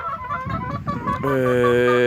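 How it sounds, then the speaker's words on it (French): A large, handsome pet rooster clucks and cackles up close, ending in a loud sustained call, with no one talking over it. "Et c'est un très beau coq"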